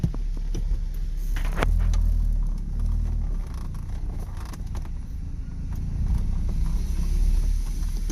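A Lancia Fulvia with dual carburetors runs close by, its throaty engine holding a steady, deep idle for the whole stretch with no talking over it.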